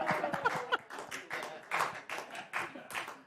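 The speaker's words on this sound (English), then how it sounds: "You don't have to clap." Scattered, uneven handclaps from a studio audience at a television news talk show, about a dozen distinct claps in an irregular rhythm, fairly close and moderately loud with quiet gaps between them.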